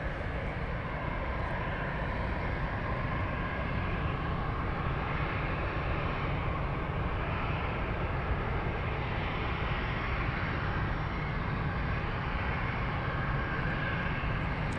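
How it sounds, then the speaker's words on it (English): A Lufthansa airliner, flight 1782, roars steadily at Munich airport, a loud continuous broadband engine rumble that holds throughout with no talk. "Yeah, that's Lufthansa 1782."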